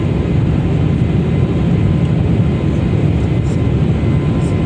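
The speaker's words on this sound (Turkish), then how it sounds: "uçak kalktı gidiyoruz" A loud, steady roar of airplane engines during takeoff fills the whole stretch without letting up, with no voices.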